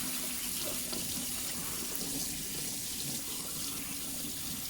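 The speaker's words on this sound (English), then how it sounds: "There's a little bit of muck in there, so we might just rinse that off." Tap water runs steadily and close by into a sink while muck is rinsed off a dishwasher filter. The flow is continuous and broadband, with no talking.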